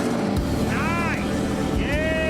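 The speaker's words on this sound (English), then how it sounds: "This is an updated 4-cylinder fuel-injected engine." An updated four-cylinder fuel-injected engine turns over and settles into a steady, heavy running drone that fills the whole stretch, with voices rising briefly over it.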